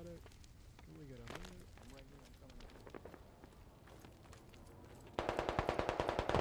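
Gunfire in the Squad military shooter: a voice talks at the start while scattered shots sound at a distance, then a close, rapid burst of automatic fire cracks out at the end.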